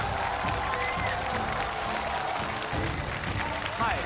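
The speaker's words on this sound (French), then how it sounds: "Des applaudissements chaleureux candidates" An audience at a televised challenge show applauds a candidate with dense, continuous clapping that fills the whole moment, loud and close, with crowd voices mixed in.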